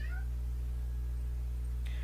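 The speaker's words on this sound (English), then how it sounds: "That was our other cat, Batty, who decided to put his 2 cents in it" A house cat gives a short, close meow right at the start, with a fainter high cry near the end, over a steady low electrical hum and no talking.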